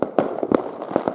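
New Year fireworks and firecrackers go off in a quick series of booming pops that sound fairly close. The bursts are irregular and rapid, with about ten bangs in quick succession.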